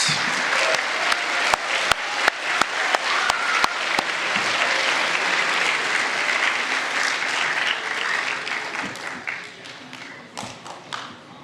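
Applause from an audience at an end-of-school awards day, with a few sharp individual claps at first, then dense, sustained clapping that slowly thins out toward the end.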